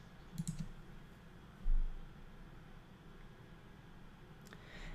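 A computer mouse gives a quick burst of faint, close clicks near the start, then a soft thump follows in an otherwise quiet room with no talking.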